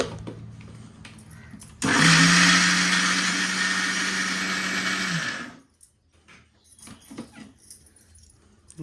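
A mixer grinder runs loudly and steadily for several seconds, grinding batter in a village kitchen, then cuts off abruptly; quieter household sounds follow.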